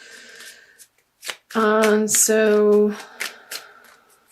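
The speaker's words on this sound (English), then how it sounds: "So I feel like these want to be shuffled." Tarot cards riffle and shuffle in quick papery bursts, close by, while a voice speaks in between.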